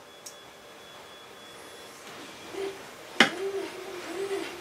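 A single small electric motor on a home-built buggy whirs and rattles noisily while held near, with a steady hum, a sharp clack partway through and uneven whining afterward.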